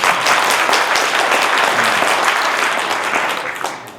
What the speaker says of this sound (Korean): 공감하시는 분 박수예요.